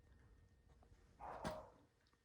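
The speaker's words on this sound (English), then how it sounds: "The dog's barking next door." A dog next door gives a single short bark, faint and distant, over quiet background hiss.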